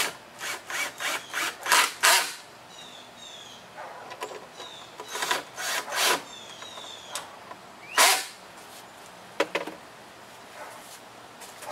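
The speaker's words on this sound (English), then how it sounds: "get a screw started. And then tighten the screws up." Screws being tightened into a wooden three-shelf bookcase, a series of short scraping, rasping turns in quick bursts separated by pauses, close and fairly loud.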